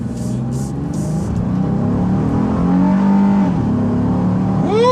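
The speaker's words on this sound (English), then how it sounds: "2 adults in the 2017 Honda Ridgeline 0 to 60 test" A 2017 Honda Ridgeline carrying two adults accelerates hard in a 0 to 60 run, its engine roaring steadily inside the cabin and rising in pitch, with a brief whoosh near the end.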